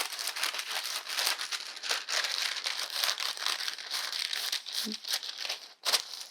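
Sheets of parchment paper are handled and crinkled up close, producing a dense, continuous rustle with a few sharper crackles and a brief louder crunch near the end, with no voice over it.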